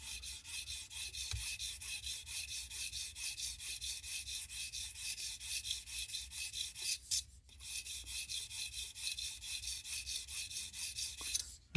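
A knife blade scrapes steadily on the stone of a Tsprof Pioneer guided sharpening system, a close, hissing rasp repeated in even back-and-forth strokes with one brief pause near the end.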